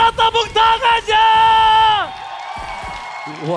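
A loud whooping cry rings out, then a crowd at a Mobile Legends esports match cheers and shouts briefly in the background, fading to a softer murmur with a few voices.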